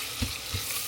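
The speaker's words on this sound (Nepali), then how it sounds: "प्याज मजाले भुट्दैछु मैले।" Chopped onions sizzle and fry steadily in a pan for a Nepali mutton goat curry, with a close, even hiss and a couple of soft low knocks from stirring.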